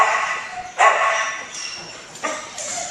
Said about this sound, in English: Out here we have our big dogs.